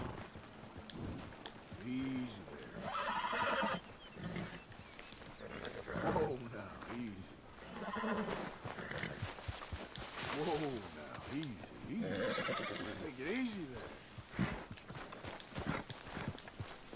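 A horse in Red Dead Redemption 2, with several whinnies and snorts and some hoof clip-clops mixed in, heard under someone talking quietly.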